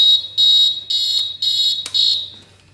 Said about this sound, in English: it will turn off when I flip the trim and the buzzer sounds